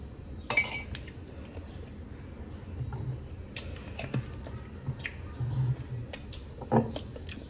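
Spoon clinking against a glass while stirring sour plum juice, a scatter of sharp, light taps and clinks at irregular intervals over quiet background noise, close and fairly faint.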